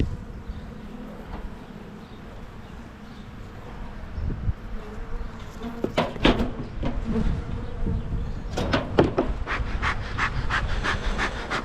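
Honey bees hum around an opened hive on a windy day, a continuous close buzz with sharp bursts as individual bees fly past the microphone; no talking.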